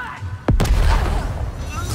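A homemade grenade explodes in Necromunda Underhive Wars, a sharp sudden blast with a sweeping whoosh followed by a lingering rumble, loud and near.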